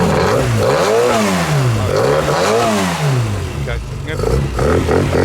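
A classic Mini race car engine revs up and down in repeated climbing and falling sweeps, loud and close, with brief spoken words over the engine.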